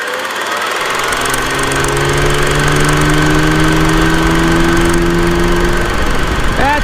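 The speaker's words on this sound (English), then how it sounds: "6th gear and throttling up, and see how fast she would go" A Kawasaki Versys 1000 SE motorcycle engine pulls hard in sixth gear from low revs, a loud steady drone whose pitch climbs smoothly as the throttle opens, with strong wind rush over it and no talking.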